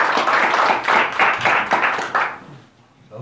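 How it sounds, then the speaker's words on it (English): A church congregation claps hands together in a steady burst of about six rhythmic group claps at close range, then fades out into quiet room tone. "Let's give the Lord a hand clap."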